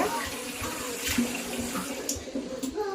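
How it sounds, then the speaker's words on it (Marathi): Water splashing and swirling in a container as finger millet is rinsed by hand, close and continuous. "त्याच्यात चांगलं धुवून घ्यायचं।"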